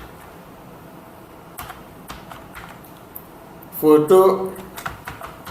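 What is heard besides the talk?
typing on a computer keyboard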